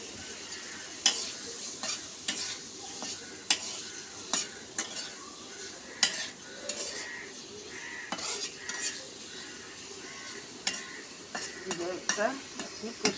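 Vegetables fry in a little oil with turmeric and salt, a soft sizzle under repeated sharp clinks and scrapes of a metal spoon against the pan at irregular intervals, fairly quiet and close.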